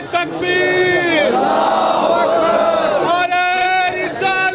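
A large crowd at a Jashan Milad-e-Mustafa religious gathering roars back a chanted slogan in unison after a leader's call, a loud sustained mass of voices with rising and falling shouts.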